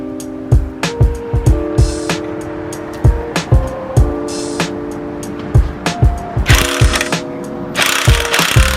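A wrench works a gear off, giving a steady, loud series of ratcheting clicks with dull metallic knocks at a regular rhythm, close up and continuing throughout without talk.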